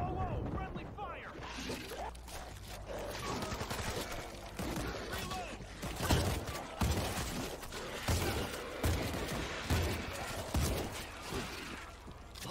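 Rapid gunfire from the zombie shooter World War Z, dense and continuous with sharp repeated bursts over a busy game soundscape, with voices talking throughout.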